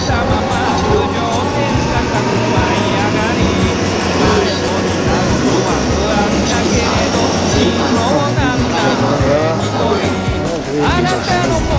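A JR 315 series rapid train bound for Nagoya rolls into a station platform with a loud, continuous rumble and rail noise, while a platform announcement speaks over it.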